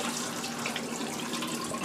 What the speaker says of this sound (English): we're just going to pour all the water off the rice